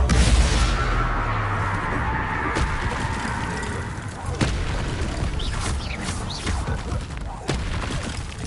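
Spell blasts and explosive booms from Hogwarts Legacy combat, dense and loud, overlapping in a continuous rumbling barrage with sharp cracks scattered throughout.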